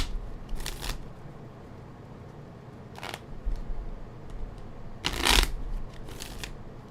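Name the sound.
shuffling cards for a reading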